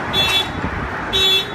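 An aftermarket car alarm fires off when a door is opened, sounding two loud, close electronic tone bursts separated by a short gap.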